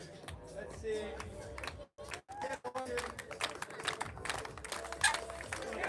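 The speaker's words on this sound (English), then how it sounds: "Crowd is wild here." A crowd claps and cheers at the European Elite Trials Championship men's 20-inch finals in Aarhus, with bursts of applause rising and falling while a commentator talks over it.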